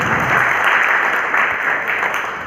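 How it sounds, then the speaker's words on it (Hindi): Loud, dense audience applause at a business consultation training event, a steady wash of many hands clapping that holds throughout without a break. "एक बार जोरदार तालियां"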